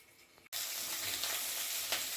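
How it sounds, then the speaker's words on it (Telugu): Green chillies fry in oil in a covered pan for Hyderabadi mirchi ka salan. After a brief hush, a loud, dense sizzle suddenly starts and holds steady. "మూత పెట్టి ఒక 1 మినిట్ వేగనిస్తాం."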